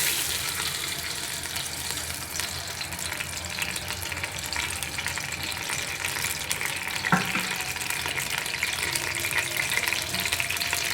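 Oil going into a hot pan for a chicken and green beans dish, heard as a steady, fairly loud frying hiss that stays even throughout, with one brief sharper clatter midway.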